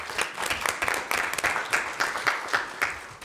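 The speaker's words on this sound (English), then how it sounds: "So I just want to give those kids a round of applause." An audience at a school board meeting claps for students, a short round of steady, fairly close applause with many overlapping hand claps that continues evenly for a few seconds.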